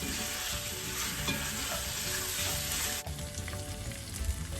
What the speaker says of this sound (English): continue to cook until the onions are completely caramelized and have this jammy texture